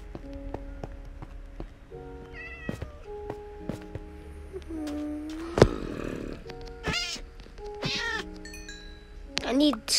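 A cat in the Minecraft video game meows repeatedly in short, rising and falling cries scattered among game clicks and tones, fairly close and clear.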